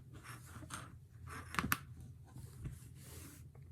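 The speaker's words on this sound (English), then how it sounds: "remove the paper" Backing paper peeled off Heat and Bond Lite fusible web on a quilt at an ironing board, giving a couple of short, close crackly rips over a quiet room.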